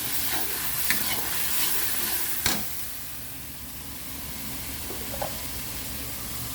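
Turmeric spice paste frying and being stirred in a pan for a mixed vegetable dish, a steady low sizzle broken by a few sharp scraping clicks of the spoon, close by with no talk.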